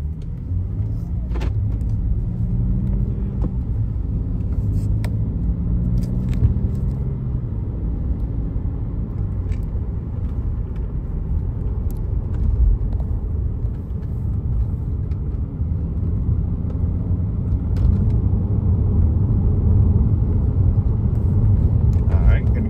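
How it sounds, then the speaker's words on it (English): A 2010 BMW 535i on a test drive: steady low engine and road rumble throughout, with someone talking over it early on and a few faint clicks and knocks from the cabin. "we're going to go ahead and take it for a quick test drive"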